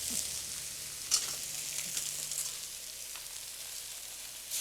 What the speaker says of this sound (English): Your fish may stick at first, but as it sears, it actually releases from the pan.